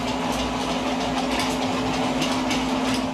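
Toy Christmas train running on its track laid out on a hardwood floor, a steady close mechanical whir with a constant motor hum and light rattling, continuous throughout.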